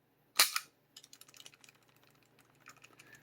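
A sharp metallic snap followed by a run of light plastic-and-metal clicks and rattles as an FN FNP-9 pistol is reassembled, close and quiet, with no talking.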